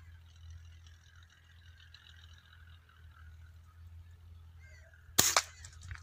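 A single loud gunshot cracks out during an outdoor dove hunt, breaking a quiet stretch of faint ambience with a sharp burst and brief echo.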